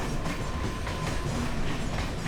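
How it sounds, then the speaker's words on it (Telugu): A local train rumbles past close alongside on the Pune–Mumbai line, a steady heavy roar of wheels and carriages with a faint rhythmic clatter throughout. "లోకల్ ట్రైన్, ఆ ట్రైన్ పక్కనే వెళ్తుంది."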